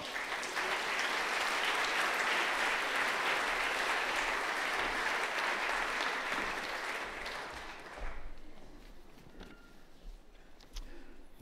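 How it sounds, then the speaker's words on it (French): Warm audience applause at a kidney foundation gala as the foundation's secretary general steps onto the stage, a dense, even wash of clapping that fades out after about eight seconds, leaving a quiet hall with faint rustles. "de monter sur cette scène sous vos applaudissements"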